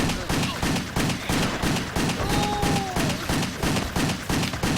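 Rapid gunfire from the WET video game as enemies are shot down, a dense rhythmic string of loud close bursts under a game music bed, with a voice talking over it.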